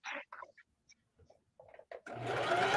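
Sewing machine stitching a quilted placemat made from a jelly roll, starting up after a few short knocks and soft handling sounds and running as a steady close motor whir.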